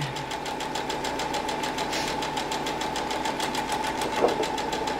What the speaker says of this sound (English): press that button, and it's going to do the sewing for us, and all we need to do is just guide it down to the other end